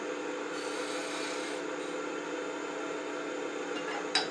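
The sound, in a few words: sanding wood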